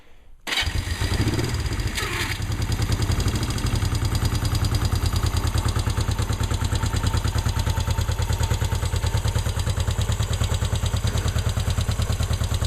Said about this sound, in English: So this is actually a cold start.